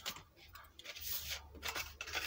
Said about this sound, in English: So I'll cut this off.